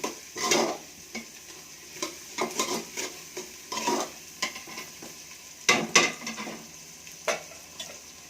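Broken rice uggani stirred and fried in a pan, with irregular scraping strokes and soft sizzling bursts scattered through the stretch, fairly close and with no talk.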